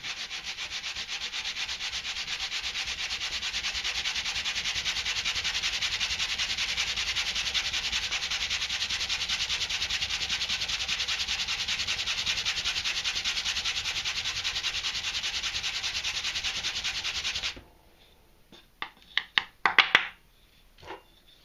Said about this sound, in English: All we're going to do is just sand off the surface layer